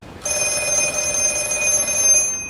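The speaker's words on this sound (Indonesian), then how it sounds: "mendengar suara telepon umum yang berbunyi" A public pay phone in a film rings steadily with a bright, continuous electronic trill that holds for about two seconds, clear and alone with no talking.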